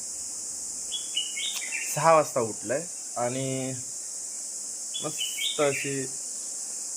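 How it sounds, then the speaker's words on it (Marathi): Birds chirp in short, high bursts at dawn over a constant insect-like drone, while a person talks over and between the calls. "व्हिडिओ सुद्धा तुमका पक्ष्यांचा आवाज येत असतो"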